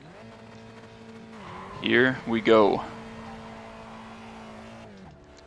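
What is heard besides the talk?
race car engine and tires in iRacing video game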